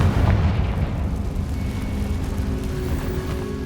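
A Confringo fire spell in Hogwarts Legacy bursts as a loud, booming explosion, a deep rumbling blast that hits at once and then rolls on as a sustained low roar.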